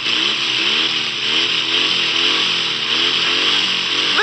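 A car engine runs loud and close, revving steadily with wavering pitch and a constant broad roar and no pauses.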